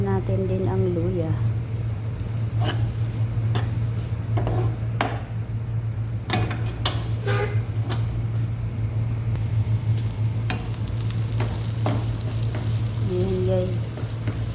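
Chicken frying in a pan with garlic, onion and ginger, giving a constant sizzle under a steady low hum, broken by repeated scraping and stirring clacks and a person talking at times.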